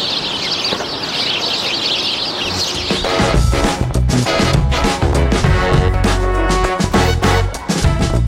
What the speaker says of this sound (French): il y a des petits buissons, c'est farci de moineaux et ça fait un bruit de fou